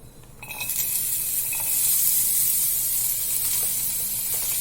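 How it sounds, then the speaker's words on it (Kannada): Bitter gourd hits hot oil in a dry pan and breaks into a bright, loud sizzle that swells within the first second and then holds as a steady close hiss. "ಸ್ವಲ್ಪ ಆಯಿಲ್ ಹಾಕೊಂಡು ಫ್ರೈ ಮಾಡ್ತೀನಿ"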